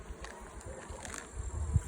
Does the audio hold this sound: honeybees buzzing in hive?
yes